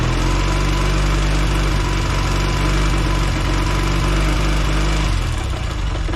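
A Velocette motorcycle engine runs steadily and loud and close, its low pulsing beat holding for about five seconds before a little throttle shifts the tone and rhythm near the end.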